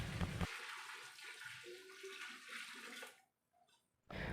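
Two to two and a half litres of water poured into a large pot of mutton korma cooked for a crowd, a loud rushing splash lasting about three seconds before falling silent.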